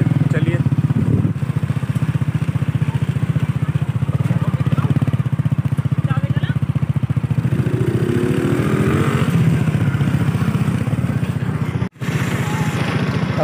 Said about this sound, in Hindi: तो वहाँ पर हम किड्स बाइक चलाएंगे